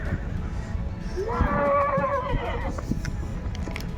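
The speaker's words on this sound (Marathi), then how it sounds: "हा घोड्याचा आवाज खूपच फुरफुर करतोय" A horse at the Sarangkheda horse fair gives a loud, close whinnying neigh lasting about a second, with snorts and crowd noise around it.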